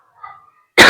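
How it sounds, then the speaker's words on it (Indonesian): A single loud, abrupt cough from a man bursts in near the end, after a faint murmur of distant voices. "Bapak batuk ya."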